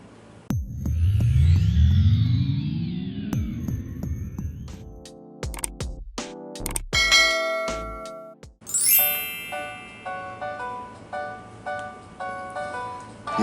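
A phone rings with an incoming call: an electronic ringtone opens with sweeping, swelling tones, then shifts into a run of bright chiming notes and dings that repeat steadily and alone, without any voices.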